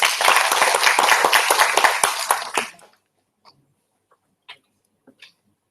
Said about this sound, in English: give a big applause to